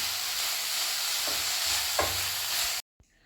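Banana flower thoran is stirred in a pan with a steady sizzle and a couple of scraping strokes, and the sound stops abruptly near the end.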